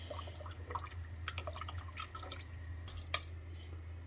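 Rice flour mixed in water poured into milk for Pesaha milk, a thin close trickle with small dripping splashes over a steady low hum.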